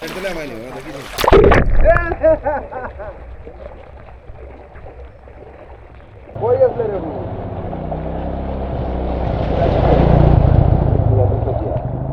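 A boat moving through floodwater on a road during Sylhet flooding, with splashing and a rising rush of water and motor noise in the later part, while people talk loudly over it.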